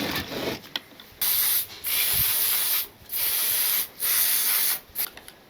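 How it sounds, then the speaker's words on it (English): Brake cleaner sprayed onto a Husqvarna 266 chainsaw air filter in several close, loud hissing bursts, each lasting about a second with short gaps between them. "clean up that air filter with a bit of brake clean"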